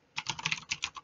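Close computer keyboard typing, a quick run of about eight crisp keystrokes in uneven bursts lasting under a second, with no voices.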